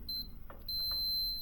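A high electronic beep from a multimeter continuity test sounds twice: a short chirp, then a longer steady tone, with a couple of faint clicks between.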